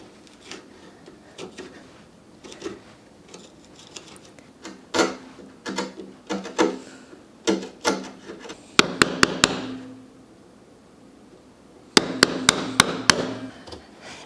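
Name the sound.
Japanese chisel working a piece of oak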